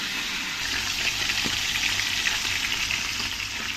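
Garlic, onion and tomato sauté in a hot pan for sarciadong mackerel, giving a steady, bright sizzle with occasional stirring scrapes close by, and no talking.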